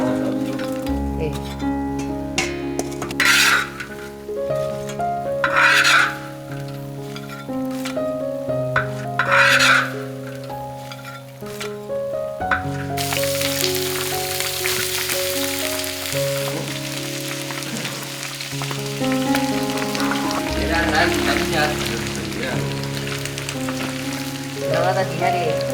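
Pork fat frying in a pan, a steady broadband sizzle running throughout the clip at moderate loudness, with the clatter of stirring and some background music or tones underneath.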